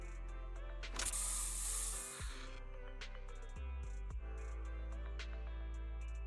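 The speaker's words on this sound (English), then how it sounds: "Here, have a taste of this special Bangboo spray." A burst of spray from the special Bangboo spray in the video game Zenless Zone Zero, a loud hiss lasting about a second over steady game music and effects.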